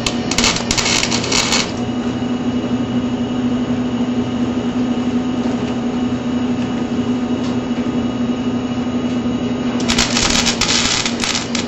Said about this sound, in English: I got to join these 2 pieces, and I'm going to do that by tacking it so the 2 pieces will stay together